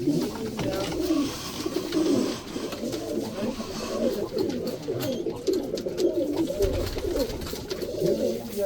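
Cimperi pigeon chicks in a coop coo and burble in a dense, continuous low chorus, close and loud throughout.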